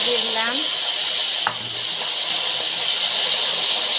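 Potato and cauliflower hiss and sizzle steadily in hot oil after going into the pan for a rohu fish curry, a continuous frying crackle that stays close and even for several seconds.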